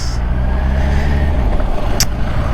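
A Kawasaki Ninja 1000 SX motorcycle engine hums low and steady up close, fading slightly toward the end, with a brief sharp click partway through.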